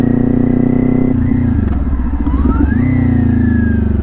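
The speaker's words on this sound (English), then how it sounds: "To downshift, we pull in the clutch and kick down on the shifter, then we can release that clutch" A motorcycle engine thrums loudly and close, drops briefly as the clutch is pulled and the shifter kicked down, then picks back up into a steady lower-gear rumble with a rising whine.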